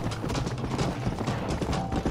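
Horse hooves from the Red Dead Redemption video game clip-clop in a steady galloping rhythm, fairly close and loud over a continuous background wash.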